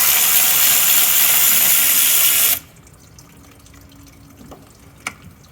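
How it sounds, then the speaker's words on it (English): Water pours out of a third-generation Prius engine during an engine swap, a loud steady splashing hiss that stops abruptly halfway through, leaving quiet workshop ambience with a few faint clicks. "More water coming out"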